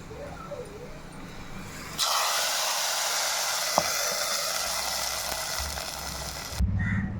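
Fried onions hit a simmering fish curry in a clay pot, setting off a sudden loud, steady hiss and sizzle that holds for several seconds after a quieter bubbling start, with one brief clink.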